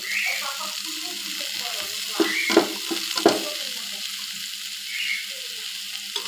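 Prawns with green chili and cumin fry in oil in a pan, giving a steady close hiss with a couple of brief clattering stirs partway through.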